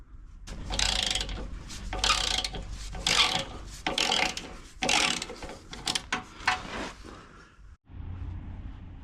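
A 10mm socket on an extension is turned by hand to undo a bolt on a Discovery 3 sill, giving repeated rasping, clicking ratchet strokes in bursts, fairly close and loud, ending in a brief quieter pause.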